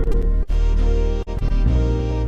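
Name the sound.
keyboard Serenade style full band accompaniment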